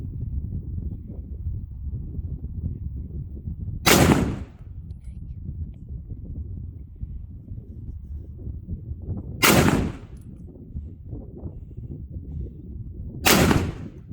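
Three loud, sharp M1 Garand rifle shots at an outdoor firing range, spaced several seconds apart over a steady low background rumble of wind.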